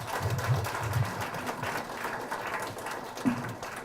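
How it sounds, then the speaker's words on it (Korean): An audience in an auditorium at a political campaign event claps to welcome a speaker: a dense, fairly faint wash of applause lasting throughout, with a few murmuring voices underneath. "여러분 뜨거운 박수로 맞아주십시오"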